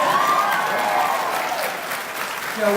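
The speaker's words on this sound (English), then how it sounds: "You can applaud. That's great." A convention crowd at the New York Comic Con Walking Dead panel breaks into sustained applause, broad and loud, with a voice over the hall's speakers cutting through near the end.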